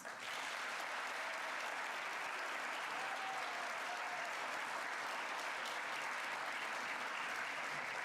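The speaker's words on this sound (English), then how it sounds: "Please join me in one more round of applause for all of tonight's recipients" An audience at a high school academic awards ceremony applauds award recipients with sustained, even clapping that fills the hall at moderate distance without pause.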